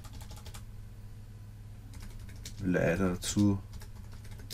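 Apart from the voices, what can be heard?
typing a comment on a computer keyboard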